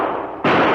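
A single gunshot fired over a fleeing man's head in an old-time radio drama, a sharp loud crack that bursts in after a quieter stretch and rings on to the end.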